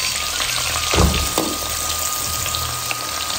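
Large onions sizzle steadily in hot oil, a close, constant frying hiss with a brief clatter as something is stirred or dropped into the pan.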